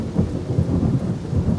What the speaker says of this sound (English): sorry for the thunder and the rain